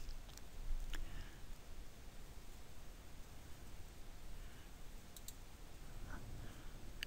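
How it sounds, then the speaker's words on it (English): Faint, crisp computer mouse clicks, including a quick double click, sound in a quiet room over a soft background hiss. "I double click in the centre."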